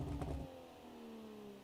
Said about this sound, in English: High revving inline 6 sounds sick